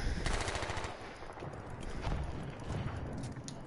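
Rapid gunfire pounds a building in the video game Battlefield 1, with a dense burst of machine-gun fire followed by continued rattling shots and blasts at moderate loudness.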